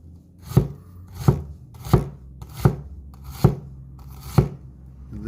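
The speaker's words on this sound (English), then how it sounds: "So we're just going to slice in the onion like so." Knife slicing through an onion on a cutting board for burgers, six distinct chopping thuds at an even, unhurried pace, close and clear with no talking.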